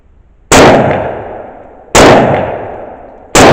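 An AK47 rifle firing copper-coated bulk ammunition at a range, three loud, sharp single shots spaced about a second and a half apart, each with a long echoing tail.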